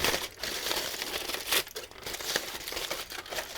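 Crumpled tin foil being unfolded by hand, continuous crisp crinkling and crackling up close with a few sharper snaps, no talking.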